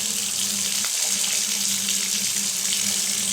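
Cold water runs steadily from a tap, a continuous close hiss and splash with no pauses.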